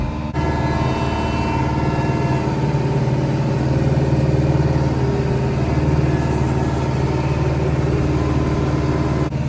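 A tractor engine idles steadily nearby in snowy, icy conditions, a constant low rumbling drone that holds unchanged throughout with no speech.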